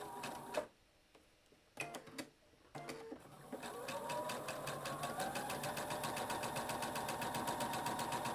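A sewing machine chain piecing quilt fabric: a few separate clicks and handling noises, then a steady, rapid, close-up stitching rhythm that runs continuously to the end.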